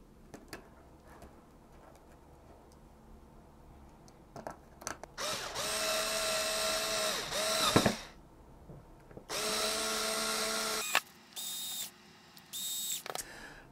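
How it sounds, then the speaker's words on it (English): A power screwdriver drives screws into the case of a buck step-down converter module. Two sustained, loud whirring bursts are separated by clicks of handling, and shorter whirs follow at the end. "Insert four screws here."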